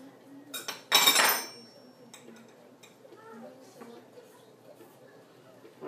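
Baked sweet potato scooped into a bowl, with a loud scraping clatter of a utensil against the dish followed by softer scraping and a person talking.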